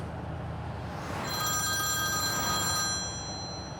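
A telephone rings in a tense drama scene, its electronic bell tone swelling in over a steady background hiss and holding for about two seconds before fading.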